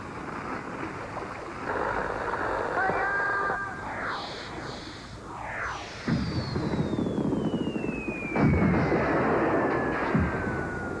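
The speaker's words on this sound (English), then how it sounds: "Now, Princess, fire the cannons." Cannons fire in a run of several heavy booms over wind and water noise, with a whistling descending tone near the end.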